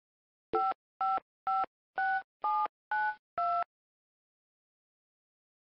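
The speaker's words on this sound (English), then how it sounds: "A number is dialed and transmitted." Seven touch-tone DTMF beeps dial a telephone number in an even, quick sequence, each short tone clear and close, then silence follows.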